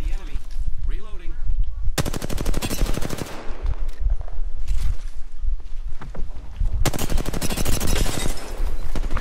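Rapid automatic gunfire from an online shooter game, with dense full-auto bursts and overlapping shots, loud and close, broken by short pauses filled with lighter clatter and scattered single shots.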